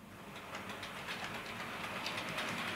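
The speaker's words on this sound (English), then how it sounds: "we're going to run it now, loco pushing, and we're going to give it some welly" A Bachmann Class 411 4 CEP four-car EMU model train runs along the track with the loco pushing, giving a steady faint rolling whir with light repeated clicks and no talk.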